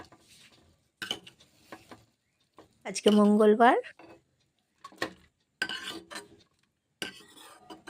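Radish greens frying in a pan with garlic, with faint scraping and sizzling stirring noises in short bursts between a person talking nearby.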